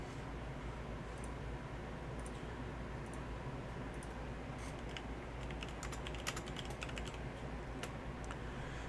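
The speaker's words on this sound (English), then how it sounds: "I don't know if it's my keyboard or if I'm just becoming a crappy typist." Faint typing on a computer keyboard, scattered soft clicks that grow denser toward the end, heard under a steady low hum and background hiss.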